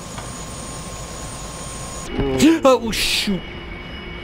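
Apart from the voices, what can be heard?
helicopter in a video game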